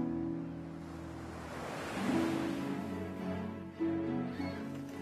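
Surf rolls and washes onto the beach at Dieppe, a continuous low rushing wash of waves with slight swells in loudness and no voices.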